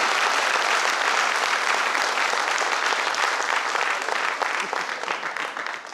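Loud, dense applause from a crowd at a business launch event, saluting its silver, gold and platinum leaders, sustained throughout and tapering slightly near the end.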